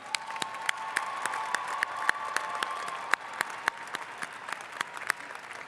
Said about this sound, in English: Let's clap one more time.